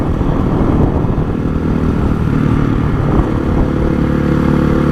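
A Honda CRF 450 motorcycle rides along with its engine droning loud and steady throughout, a constant close rumble with slight surges and no pauses.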